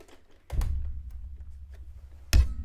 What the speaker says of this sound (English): let me pull out my sewing machine.